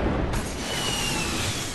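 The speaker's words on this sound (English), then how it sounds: "Oh, I've got an enemy shooting rockets at me with RPG." An RPG rocket explosion in the Fortnite video game gives a loud, dense roar of broadband rumble that flares up early and churns steadily for the rest of the moment, with no voices.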